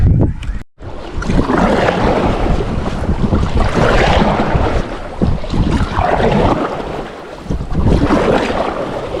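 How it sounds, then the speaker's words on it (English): Strong wind roars steadily across the microphone on an open lake during a Missouri River paddling trip, with gusty rumble and splashing water filling the whole stretch and no talk. "the wind was blowing directly in our faces"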